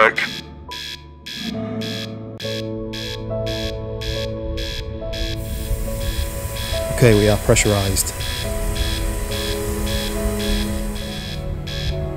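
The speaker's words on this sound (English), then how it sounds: "That must be the power alarm." A space game's power alarm sounds as a rhythmic series of loud electronic beeps, followed by a steadier pulsing tone; someone talks briefly over it.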